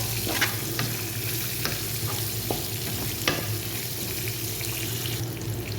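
Ingredients sautéing in a pan give a steady, even sizzle, close and moderately loud, with a few light utensil clicks as they are stirred, no voices.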